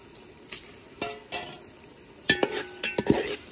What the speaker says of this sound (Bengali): ওখান তেলে কাইটা রাখা মাংস আর আলুটা দিয়ে দিই।